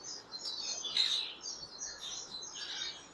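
Breeding pair of green-cheeked and yellow-sided conures at a pet market in Islamabad, giving several faint, high, short chirps in quick uneven succession, somewhat distant and without speech.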